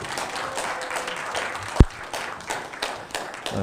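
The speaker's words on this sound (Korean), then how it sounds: "박수로 환영해 주시기 바랍니다" A lecture audience gives scattered applause to welcome a speaker at a history talk, with light, uneven claps and one sharp close clap standing out, the whole moderately quiet.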